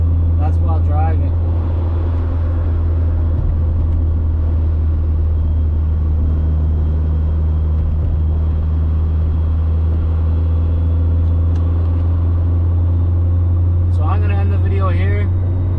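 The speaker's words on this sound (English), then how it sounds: "so I'm just going on a drive" A K-swapped Honda Civic EM2 drives on the road, its engine and road noise forming a steady low droning rumble heard from inside the cabin, with a person speaking briefly at the start and again near the end.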